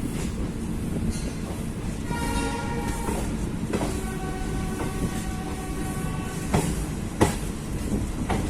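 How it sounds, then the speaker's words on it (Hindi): The Bikaner Intercity Express sounds a long sustained horn over a rumbling engine as it departs, with a second horn blast and clanks of the cars getting underway. "तो चलते हैं, हॉर्न दे दिया है,"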